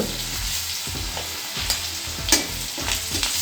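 Turmeric and a pinch of asafoetida hit hot oil with green chillies while cooking a Maharashtrian gawar (cluster bean) bhaji, giving a steady close crackling sizzle with small popping bursts and stirring, no voices.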